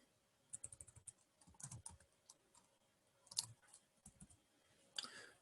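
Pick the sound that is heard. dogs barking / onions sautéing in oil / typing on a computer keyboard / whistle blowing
typing on a computer keyboard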